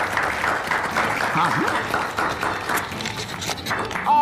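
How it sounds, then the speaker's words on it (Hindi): An audience at a community health event in Bihar claps in sustained, dense applause that runs throughout, and a voice speaks briefly over it. "दोनों के लिए जोरदार तालियां।"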